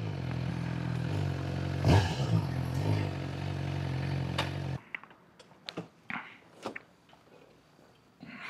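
A lowered Suzuki GSXR 600 engine drones loudly and steadily nearby for several seconds, then cuts out abruptly, leaving faint scattered clatter and quieter background sounds.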